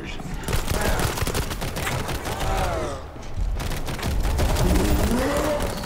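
Rapid, continuous bursts of gunfire crackle loudly with brief pauses, with combat sounds and faint tonal effects underneath, from the video game World War Z in its New York subway level.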